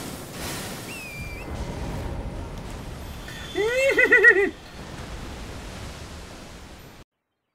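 A horse in Elden Ring neighs in a brief, loud whinny midway through, set against a soft, hissing ambient background.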